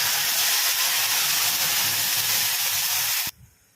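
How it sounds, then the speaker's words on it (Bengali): Spice paste hits hot oil already holding a bay leaf, dried red chili and whole cumin, a loud, steady sizzle and hiss that runs unbroken for several seconds, then cuts off abruptly and leaves faint residual sound. "আমার তেল গরম হয়ে গেছে আমি একটা তেজপাতা দিতে করে একটা শুকনো লঙ্কা দিয়ে দিলাম এবার কিছু গোটা জিরে দিয়ে দিলাম এবার আমি পেস্টটা ঢেলে দিলাম"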